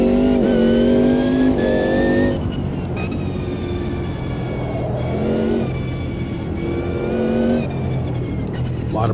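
A race car's engine in a racing video game on the Adelaide circuit winds up through repeated rising revs, dropping between gear changes and pulling again, loud and continuous with no talk.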